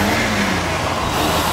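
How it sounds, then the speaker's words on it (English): An engine runs steadily in a restored Stetson anniversary truck that has had a fresh tune-up, a loud, close rumble with no voices. "you turn the key, it'll fire up."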